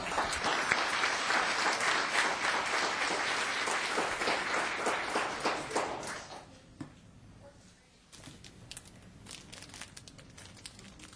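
Audience applause at a planning commission meeting rises as a loud, dense clapping wash, then fades out around six seconds, leaving quieter room noise with scattered shuffles and knocks.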